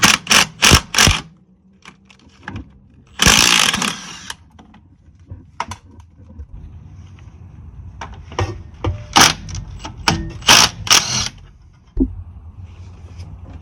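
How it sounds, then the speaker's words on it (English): Brake caliper bolts on a 1988-1992 Toyota Corolla being worked loose with a 17mm wrench, a series of sharp metallic clicks, clanks and ratchet bursts close by, separated by short pauses. "Next, we'll remove the caliper. It's two 17mm bolts."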